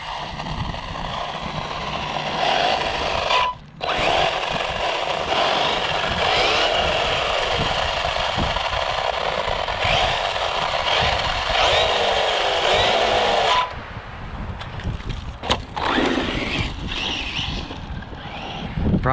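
An old Losi RC car with a noisy, worn differential runs with a whining, buzzing drivetrain that rises and falls, cuts out briefly twice, then drops to quieter rattling near the end, under some wind rush.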